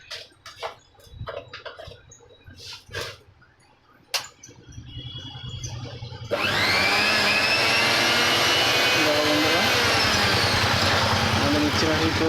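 A repaired electric concrete mixer machine starts up after scattered clatter and handling noises, then runs loud and steady, a dense continuous motor and drum roar filling the rest of the clip.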